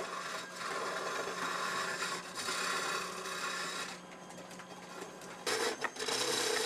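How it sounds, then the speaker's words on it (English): Wood being carved on a lathe in a Kyoto woodcraft workshop, giving a continuous scraping, rasping hiss of a cutting tool against spinning timber, with brief pauses and a louder burst near the end. "Yuki Ayabe works a lathe to carve wood."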